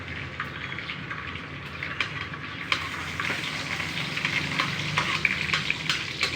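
Garlic sautés in hot oil for a chicken curry, a crackling sizzle that grows busier partway through, with small spattering pops and occasional utensil clicks nearby.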